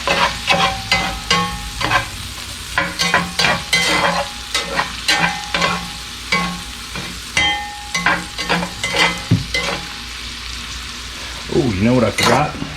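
Venison steak seasoned with salt and pepper sizzles in a hot pan at a camp cookout while a utensil stirs it in repeated scraping strokes, close and clear over the steady frying hiss.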